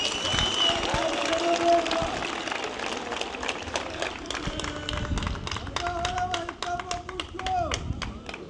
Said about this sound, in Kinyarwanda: Nagira ngo mubampere amashyi tubashimire.